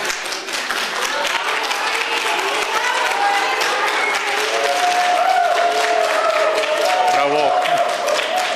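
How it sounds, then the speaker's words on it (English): Sustained applause from a large audience at a political speech event, dense steady clapping filling the hall at high level for several seconds with crowd noise underneath. "Let's applaud this gentleman that he lives in our audience."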